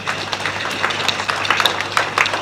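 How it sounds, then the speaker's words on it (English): A church congregation applauds with dense, steady hand clapping that keeps an even crowded rhythm throughout, moderately loud and without talk on top. "Give God a mighty hand clap."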